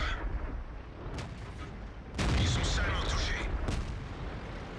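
Tank cannon fire in a tank battle video game, a loud broad boom that starts midway and rolls on over the game's rumbling background, with the player's commentary running throughout.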